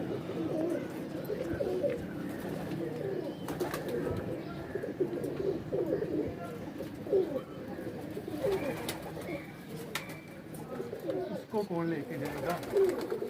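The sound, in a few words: pigeons cooing near a trap net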